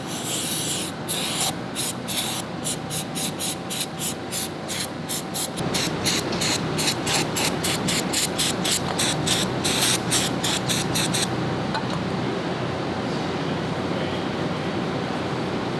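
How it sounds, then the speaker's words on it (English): Brake cleaner sprayed onto parts of a flood-damaged McLaren P1 comes as a run of short, sharp aerosol bursts, then a longer continuous spray that fades into a quieter hiss. "I'm going to brake clean a little bit here."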